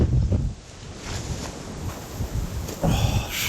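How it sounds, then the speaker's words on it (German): Strong, gusting wind in the mountains of Mallorca buffets the microphone with loud, uneven rushes and low rumbling, swelling and easing in waves, with no voices. "kann ich hier mal kurz aus dem Wind raus?"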